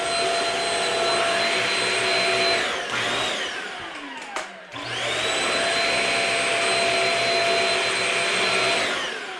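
Shark Rocket Deluxe Pro stick vacuum cleaner running with a loud, steady high whine, briefly winding down and cutting out near the middle before spinning back up to full speed.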